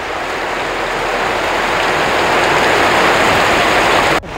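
Small, clear, pebble-sized hailstones pour down in Pasawahan, Sukabumi, making a dense, loud, constant patter and hiss on surfaces nearby that cuts off abruptly near the end.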